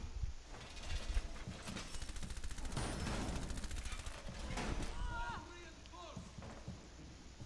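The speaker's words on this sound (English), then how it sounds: "Someone's shooting in through that hole." Rapid gunfire crackles in Rainbow Six Siege: close, dense bursts and fusillades shot in through a hole in a wall, thinning out toward the end, while voices talk over the game sound.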